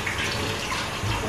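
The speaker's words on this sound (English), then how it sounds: "let's turn this one off and turn the warm water on" Warm water running from a household sink tap at night, a steady broadband rushing stream, close and continuous, with no talking over it.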